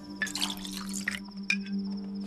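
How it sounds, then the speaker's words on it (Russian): Water bottles being filled in the video game Pathologic 2: short splashy liquid bursts over a steady low hum, with a sharp drip or clink near the end, fairly close and alone. "О, наберем водички."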